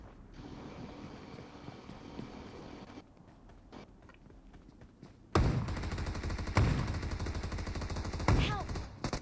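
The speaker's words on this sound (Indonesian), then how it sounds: "3 peluru shotgun gak ada yang kena" Three heavy, booming shotgun blasts a few seconds apart ring out in a PUBG Mobile firefight, loud and close, after a quieter stretch of game sounds.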